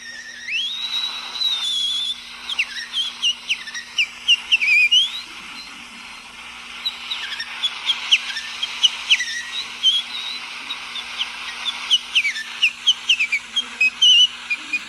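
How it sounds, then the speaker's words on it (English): A person whistles a wandering, improvised melody with bright sliding notes and short phrases, close and clear over a faint steady hum. "Okay, improv whistling."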